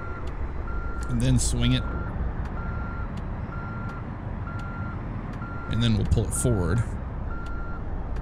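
A Freightliner FLD 120 truck backs up in American Truck Simulator, its reversing alarm beeping in an even, steady rhythm throughout, with someone talking over it in two short bursts.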